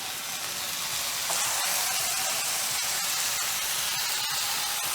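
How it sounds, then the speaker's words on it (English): Burgers fry in a pan with a steady, bright sizzle and crackle of their own grease, close and continuous, with no voices. "Hear the sizzle for the ASMR people."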